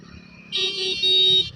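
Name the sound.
vehicle horn honking on road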